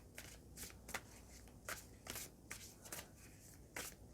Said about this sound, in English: let's just get another card out of here